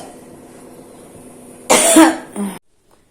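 A girl coughs nearby, a single harsh burst followed by a shorter second cough, after a quiet background hum and then silence.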